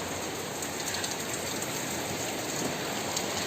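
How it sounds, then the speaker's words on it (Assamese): Heavy rain pours steadily outside, a dense and even hiss that runs unbroken from start to finish with no voices. "এতিয়া বাহিৰত বহুত বেছি বৰষুণ দি আছে"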